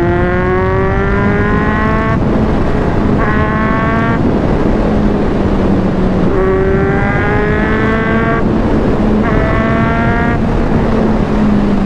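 A Kawasaki Z800 superbike revs and accelerates hard through the gears in a loud, continuous exhaust roar, the engine pitch rising and dropping with each shift, close and dominant.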